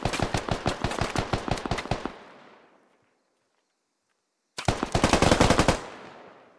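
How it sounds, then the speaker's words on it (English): Automatic gunfire shot through a wall in the video game Squad: a loud rapid burst of about a dozen shots fading into echo, a gap of silence, then a second dense burst. "Volcrum putting bullets through the wall."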